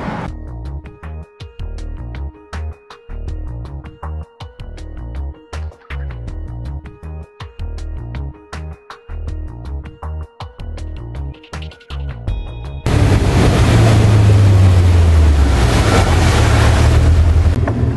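Music plays for the first part, then a motorboat roars loudly across the water with heavy wind buffeting and splashing, its engine pitch sliding steadily, close and without talk.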